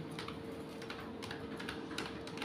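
Fingers tap on a computer keyboard while entering data, a steady patter of light, faint keystrokes over a continuous low room hum.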